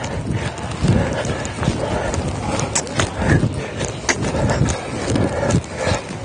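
Steady clip-clop of a five-year-old dressage horse's hooves moving at a working pace, close by, with faint talk and breathing in the background.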